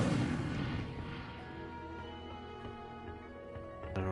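Incendio fire spell cast in the Hogwarts Legacy video game: a dense fiery burst and crackle over sustained tonal game music, with a brief sharp hit near the end.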